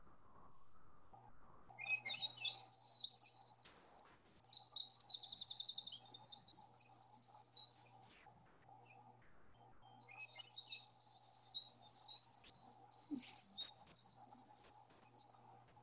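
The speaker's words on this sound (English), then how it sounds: "So we can see this little tiny brown bird. He's very, very small. He's got a big voice." A tiny brown bird's intricate, loud song plays back in two long, rapid trilling phrases over a faint steady hum, with a short gap between the phrases.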